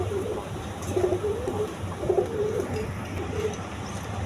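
Indian Kaldam pigeons coo in soft, repeated low phrases, several rounded calls rising and falling over a steady background hum.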